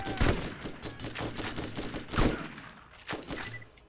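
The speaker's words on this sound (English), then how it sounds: "Go shotgun, go!" Shotgun blasts in the video game Borderlands, several loud sharp booms spaced irregularly amid chaotic combat noise, with little talk over them.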